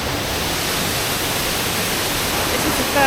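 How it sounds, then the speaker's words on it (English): A waterfall in Mindo roars as a steady, dense wash of rushing water, loud and unbroken throughout. "This is the third waterfall."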